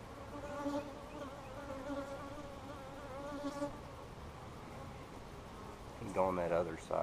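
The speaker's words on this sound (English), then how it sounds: "Quite a bit of bees in there." Honey bees buzz steadily around a new hive split in a bee yard, a close, continuous insect drone with a few louder passes near the end.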